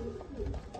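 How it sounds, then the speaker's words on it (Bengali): Pigeons in a loft give a brief, faint, low murmur of cooing against a dense background rumble. "এখানেও গোপালদার কিছু ভালো পায়রা আছে"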